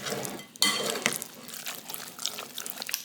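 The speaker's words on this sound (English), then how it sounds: "Now let's get everything stirred together." Chicken casserole ingredients being stirred together in a dish, with wet, clattering scrapes of a utensil against cookware and soft liquid squelches in an irregular rhythm, close and moderately loud.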